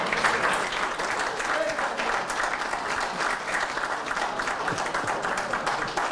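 A crowd at a provincial election candidates' debate in the riding of Berthier breaks into sustained applause, a loud, even wash of many hands clapping throughout with no letup.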